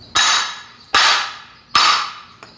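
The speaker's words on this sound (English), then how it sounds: "grab a hammer, and just whack these very hard" A hammer whacking upturned mortar shell rack tubes on a hard surface: three loud, evenly spaced metallic strikes, each ringing and decaying, then a faint tap at the end.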